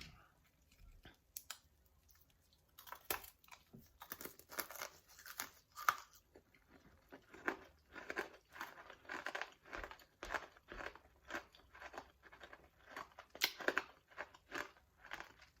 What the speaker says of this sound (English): Now I'm going to taste it.